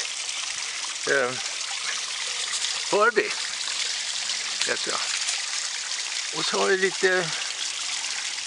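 Water trickles steadily through a small plastic garden waterfall, a continuous close hiss that runs through the whole stretch while someone speaks over it in short bursts.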